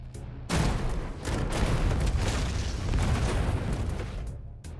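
Sustained barrage of heavy explosions from weapons in the video game Mothergunship, a loud continuous roar of booms and bursts with no talk.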